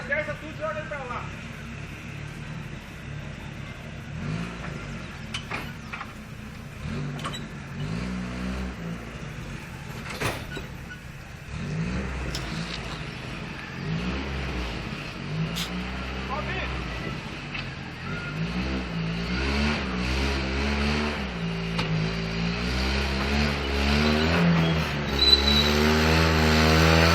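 A Chevrolet Opala car being maneuvered into position, its engine idling and revving in rising and falling swells that grow louder toward the end, heard under people talking nearby.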